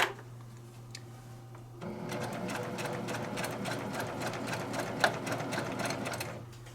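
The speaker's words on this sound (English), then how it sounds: "You want to sew back gradually like this and get back to that 1/4 inch." A sewing machine runs a quilt seam in a steady, close, rapid mechanical chatter that starts after a brief quiet pause and continues without talk.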